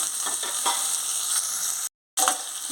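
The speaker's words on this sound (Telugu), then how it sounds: "ఇప్పుడు చామదుంప ముక్కలు వేసేసుకోవాలి" Taro pieces fry in hot oil with a bright, steady sizzle and crackle, broken by a brief dropout before the hiss resumes, close and without talk.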